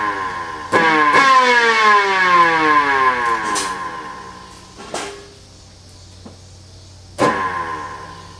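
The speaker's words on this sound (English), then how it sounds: "here's the siren. I'm going to go ahead and growl it a few times." Homemade wooden electric siren growling: a loud rising wail that winds down, followed by two short sharp spin-up bursts, close by.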